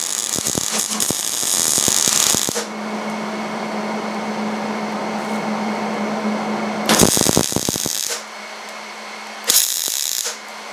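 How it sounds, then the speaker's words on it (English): A steel axle being welded into a pipe on a parts tumbler build, with bursts of harsh crackling buzz separated by quieter stretches of steady hum, close and loud, with no voices. "now I'm just going to put a little bit of a weld on there to keep this from"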